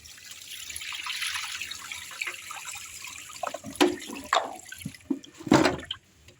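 Water trickles and drips from coconut shells after three rinses, draining off before the shells are sun-dried for homemade activated charcoal, with a few sharper splashes and knocks near the end.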